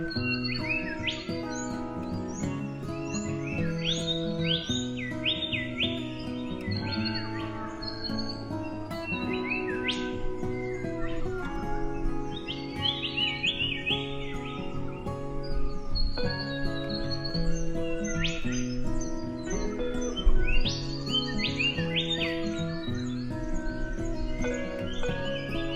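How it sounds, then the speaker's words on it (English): Several birds chirp and sing over a gentle background of sustained tones, with bright trills and tweets recurring throughout. "listen to the birds singing and be at peace."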